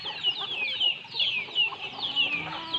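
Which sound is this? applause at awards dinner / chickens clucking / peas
chickens clucking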